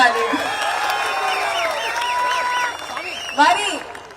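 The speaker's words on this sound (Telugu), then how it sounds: "ఇది మీరు యాక్సెప్ట్ చేస్తే ఒకసారి గట్టిగా చప్పట్లు కొట్టాలి" A crowd claps and cheers loudly at a public gathering, the applause sustained with scattered whoops over a voice that keeps speaking, then easing before a short burst near the end.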